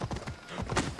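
Quick clip-clop of horse hooves in the video game Assassin's Creed Odyssey, several close hoofbeats in a brisk rhythm with a faint whinny mixed in.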